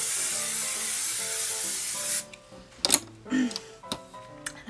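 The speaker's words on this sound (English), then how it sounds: "Spray the heck out of everything." An aerosol can of hairspray hisses in a long, steady spray over set vintage curls for about two seconds, then stops, followed by light clicks and handling sounds.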